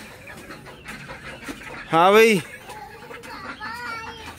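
A chick held in a hand chirps, one loud sweeping call followed by softer, higher chirps a moment later, with someone talking nearby.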